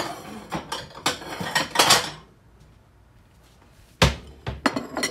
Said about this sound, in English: So I gotta get another bowl.